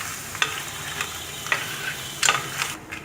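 Crab pieces are stirred into tomato, onion, ginger and garlic masala in a cooker for crab soup, with a continuous sizzle and a few scraping stirring strokes of the spoon against the pot.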